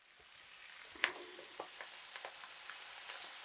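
Onions frying in hot oil for koshary, a faint steady sizzle with a single sharp clink near the start and soft scattered pops and scrapes after it, quiet and with no talking.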